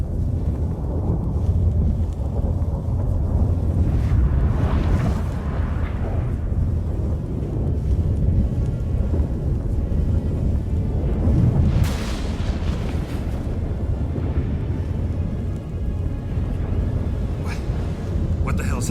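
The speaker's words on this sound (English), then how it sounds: "That a storm?" A thunderstorm in The Witcher 3: Wild Hunt brings a continuous deep rumbling roar with wind-like noise, swelling with heavy booms around the middle and staying loud throughout.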